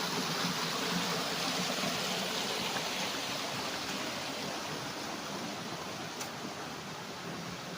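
Flowing stream water on farm property in Liliw, Laguna, a steady broadband rushing and gurgling that holds evenly throughout, fairly close with no talk over it.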